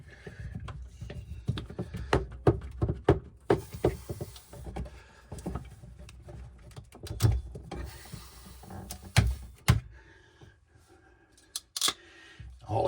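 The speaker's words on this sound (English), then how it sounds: "All I did was just cut the head off the crimp." Snips of cutters biting through a metal PEX B crimp ring, a series of sharp clicks and clacks up close, with small handling noises between cuts.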